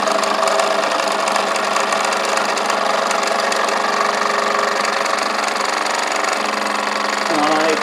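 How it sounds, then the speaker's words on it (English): A model steam engine with a large boiler runs steadily on its own steam, giving a continuous close chuffing and mechanical clatter with no pause. "With a boiler that big, it runs for a long while on its own steam,"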